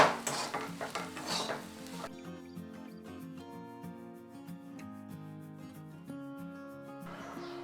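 French beans sabzi is stirred in a pan after coriander is added, a short burst of sizzling and spoon scraping that quickly gives way to background music.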